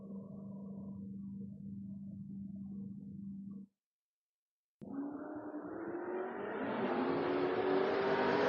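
Drag race cars, including Gary Semper's Mustang, roar loudly down the strip, a steady engine drone cutting out briefly before a rising, building acceleration.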